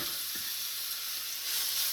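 Small chicken pieces sizzle steadily in a preheated pan on an induction hob, a dense, even hiss that swells slightly near the end, with no talk.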